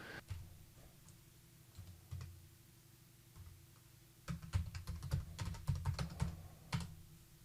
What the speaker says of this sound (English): back at the putty session here, I'm ready to type some stuff